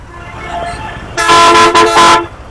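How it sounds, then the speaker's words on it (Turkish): A bus horn honks loudly in two long blasts close by on a busy street near the Pakistan–India border crossing, after a stretch of traffic noise and faint voices. "Otobüs sana çalıyor Ezerim diyor."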